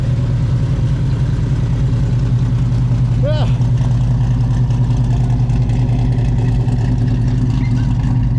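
A 1968 Chevelle with a 396 big block, 4-speed and 3-inch exhaust idles steadily up close, a deep continuous rumble running throughout with a brief word spoken over it.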